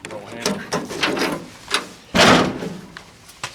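A single solid thunk of a 1957 Chevy door shutting in a garage, loud and close, standing out after quieter shuffling and handling noises.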